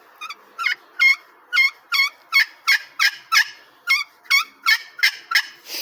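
A slate turkey call, played to imitate a hen's yelps, gives a steady run of about fifteen sharp, raspy yelps. The yelps are evenly spaced and loud and close, with no talking over them.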